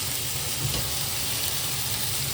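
Steady, loud sizzling of chicken frying in hot oil, a dense continuous crackle and hiss with no talking.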